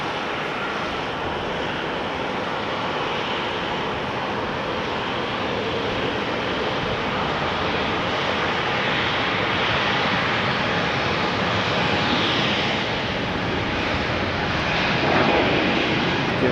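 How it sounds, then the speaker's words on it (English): An Air France Bombardier C-Series 300 jet taxiing on a wet, rainy runway at Amsterdam Schiphol Airport, a loud, steady broadband engine roar that holds constant and swells slightly near the end. "Air France, flight 1241, Bombardier C-Series 300 on its way to Paris-Charles de Gaulle"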